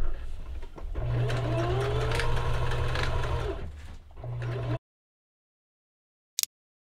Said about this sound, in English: I'm gonna go and stitch my seam toward the lining.